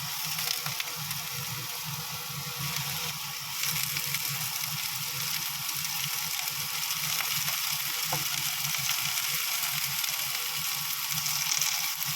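Hotdog and vegetables fry in a pan for an omelet, giving a steady loud sizzle with crackling and occasional scraping, continuous throughout and without talking.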